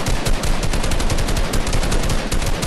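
Dense, continuous automatic gunfire in an arena shooter video game, loud and sustained rapid bursts with no gaps, filling the whole stretch without talk.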